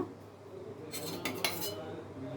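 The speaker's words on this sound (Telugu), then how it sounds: "ఇప్పుడు పెనం పెట్టుకున్నాను" A flat griddle pan is set down on a home stove with a brief cluster of metallic clinks and scrapes, quiet and close over a low steady background hum.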